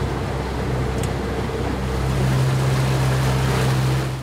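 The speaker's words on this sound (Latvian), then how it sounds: "Raimonds mums piedāvā izbraukt kādu aplīti ar laivu, kas jaunajai sezonai jau ir gatava, pa Lielupi." A boat motoring along the Lielupe river in Latvia, with a steady low engine hum and the rush of water against the hull continuing evenly throughout.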